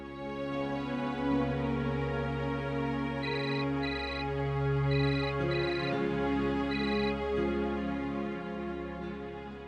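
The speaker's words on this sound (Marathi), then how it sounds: "मी ना राजाला फोन लावतो." A mobile phone ringtone plays while a call is being placed, a repeating melodic tune with short bright beeping phrases, steady and clear over a low background hum, no talking.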